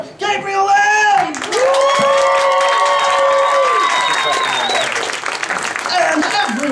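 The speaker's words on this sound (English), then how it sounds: "Conjure to the stage with your applause, our gentleman conjurer, Gabriel Lynn!" A theatre audience at a circus-themed show applauds and cheers as a gentleman conjurer comes on stage, with loud continuous clapping and whooping voices layered over sustained tones throughout.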